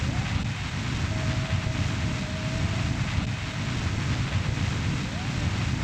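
A steady, dense roar from a short rocket engine burn in Kerbal Space Program, a continuous broadband rumble holding at an even level from start to finish with no talk over it.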